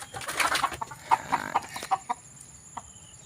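Sweater gamefowl hens cluck in short, irregular bursts close by, a series of sharp clucks and soft calls over faint farmyard background.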